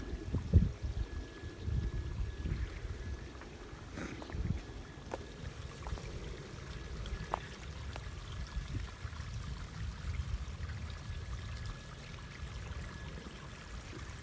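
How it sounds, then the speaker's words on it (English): An outdoor waterfall flowing, a steady rushing wash of water with low rumble, continuous and fairly distant, with no voices. "See the beautiful waterfall"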